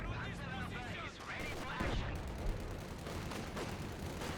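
Rocket artillery barrage from a Panzerwerfer in Company of Heroes 2, a dense, continuous rumble of overlapping explosions and launches under a steady din of battle, loud throughout with no single clear boom standing apart.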